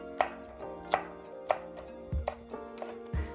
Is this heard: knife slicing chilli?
yes